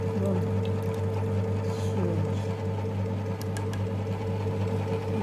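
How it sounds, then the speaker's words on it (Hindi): A dough kneading machine hums steadily with a low mechanical drone and faint sloshing as water drips onto the dough, running continuously at moderate volume without pause. "अंदर आटा गूंदा जा रहा है"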